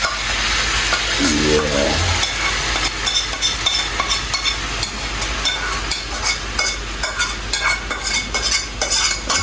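Stock poured into a pot of okra soup, followed by steady stirring and a continuous sizzle, with a brief gurgling pour early on and scraping utensil clicks throughout; a single short word is spoken.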